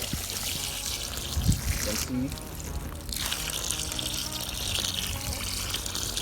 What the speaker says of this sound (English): when you begin to water this particular yam